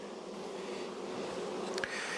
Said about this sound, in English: I'm just going to shake the frames out between these hives down the line.